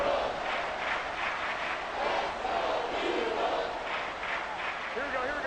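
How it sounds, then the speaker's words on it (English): Football stadium crowd at a Raiders game roaring in a dense, continuous wall of noise that stays loud and steady throughout, with no breaks. "this crowd is making an impact right now"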